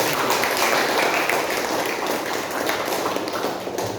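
A crowd applauds steadily and loudly throughout, dense clapping with no pauses.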